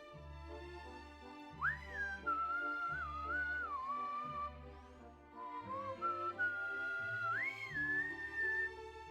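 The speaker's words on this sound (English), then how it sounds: "I whistle on stream pretty often." A person whistles a wavering melody, with long sustained notes and sliding pitch changes, steady and fairly close, over a constant low background music drone.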